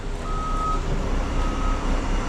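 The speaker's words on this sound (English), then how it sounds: "All right, next truck is here." Concrete truck arriving on a residential pour site, a steady heavy diesel rumble with a high reversing beep sounding faintly over it.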